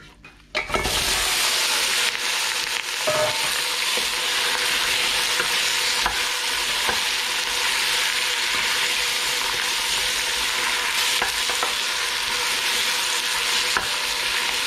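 Pork spare ribs drop into caramelized sugar in a hot pan and fry with a sudden loud sizzle that stays steady and intense, with occasional stirring clatter and no talking.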